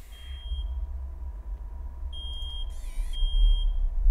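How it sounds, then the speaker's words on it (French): An alarm clock goes off in the horror video game Psalm 5:9-13, sounding as a steady high electronic beep tone with a brief warbling burst partway through, over a low rumbling background drone. "Le réveil sonne"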